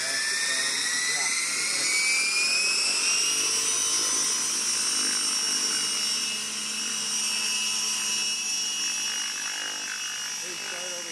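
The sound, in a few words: RC helicopter flying for filming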